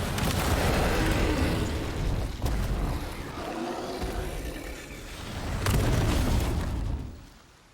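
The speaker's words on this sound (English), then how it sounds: "let's see what this rocket launcher can do" A rocket launcher blast in Resident Evil 4 Remake erupts as a loud, rumbling explosion that rolls on and fades, followed by a second heavy boom near the end; no talking.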